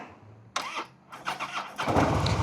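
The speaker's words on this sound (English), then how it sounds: "time to fire this thing up here for you" Harley-Davidson Softail Slim with a Twin Cam engine cranks and fires up, first a brief starter whir, then catching into a loud, rumbling, uneven idle close by with no talking.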